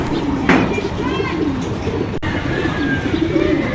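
Racing pigeon coming in fast during training in Angono, Rizal and bumping into its loft entrance: one sharp knock stands out amid nearby pigeon coos and soft background noise.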